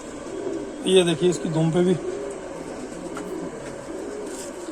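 Pigeons kept by a fancier, including Sialkoti and Rampuri breeds, cooing in low, throaty bursts close by, with someone talking over them throughout.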